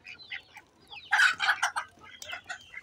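Farm chickens clucking and calling around feed scattered in a few spots in a rural homestead yard, a busy overlapping flurry of close clucks swelling loudest midway, with no one speaking.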